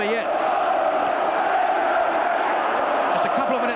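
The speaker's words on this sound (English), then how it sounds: "And the crowd now in tremendous voice" Football crowd at Ayresome Park for Middlesbrough v Aston Villa during extra time of a Zenith Data Systems Cup Northern Final, roaring and chanting loudly in one sustained wall of voices, with a faint commentator's voice underneath.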